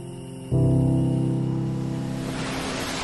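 Ocean waves rise suddenly into a loud, sustained wash with a tonal rumbling layer, then spread into a broad hissing surf as the swell breaks and fades slightly, with no voices present.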